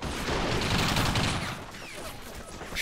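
Soldiers shooting in Men of War Assault Squad 2: a dense, continuous crackle of rifle and machine-gun fire, loud and close at first, then thinning slightly, with no talk.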